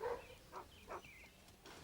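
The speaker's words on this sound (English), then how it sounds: "Oh, dog's barking." A dog barks faintly in the distance, a few short separate woofs spaced out over a quiet background.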